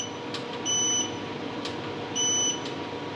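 A Growatt SPF5000ES inverter's buzzer sounds two clear, high electronic beeps about 1.5 seconds apart, each lasting under half a second over a low background hum.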